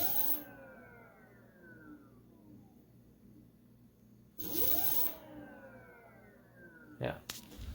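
A Nanrobot D4+ 2.0 electric scooter's motor spins up with the wheel off the ground, a low crunchy whir sweeping downward as it winds down, repeated twice, fairly quiet with a brief click near the end.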